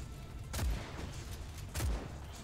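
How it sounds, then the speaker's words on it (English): Two heavy sniper rifle shots ring out in the video game Just Cause 4, each a sharp, booming crack with a low thump, spaced about a second apart over a steady low background hum. "Gotta admit, that sniper rifle packs quite the punch"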